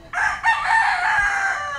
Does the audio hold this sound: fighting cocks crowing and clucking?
yes